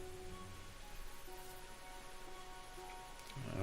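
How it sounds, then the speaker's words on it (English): Steady rain pours in the medieval open-world game Kingdom Come: Deliverance, a continuous hiss of falling drops with faint tonal ambience beneath and a louder low rumble swelling in at the very end. "We're back to raining again."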